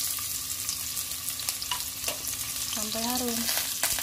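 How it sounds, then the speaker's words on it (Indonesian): Garlic and shallots sizzle steadily as they sauté in a hot pan, a continuous frying hiss with a few stirring scrapes, while someone speaks briefly over the cooking. "Tumis bawang putih, bawang merah terlebih dahulu ya teman-teman"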